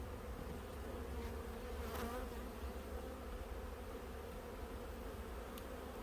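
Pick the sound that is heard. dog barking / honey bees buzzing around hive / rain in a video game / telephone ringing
honey bees buzzing around hive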